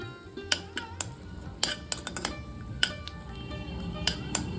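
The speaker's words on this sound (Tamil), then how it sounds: "முந்திரி பருப்பை கொஞ்சம் லைட்டாக வறுத்த உடனே திராட்சையும் சேர்த்துடலாம்" Cashew nuts and raisins being fried in a pan for besan kheer, heard as scattered sharp metallic clinks and scrapes of a spoon against the pan over a low background hiss, no voices.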